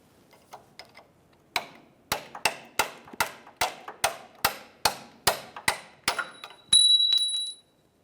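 Mounting bracket bolts on a Chevrolet lower control arm being removed with a rapid series of sharp metallic impact-tool bursts, about a dozen evenly spaced hits, loud and close, ending in a short high whine.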